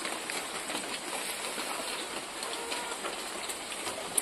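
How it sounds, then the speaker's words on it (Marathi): Steady hiss of heavy rain pouring down, an even wash of noise with scattered drips, moderately faint and without talking. "पाऊस तर खूप पडतोय आज"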